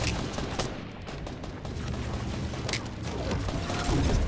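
Gunfire in the video game Fortnite, Battle Royale on Xbox One X: a dense run of sharp shots and bursts with steady game noise beneath, fairly loud throughout, with no talking.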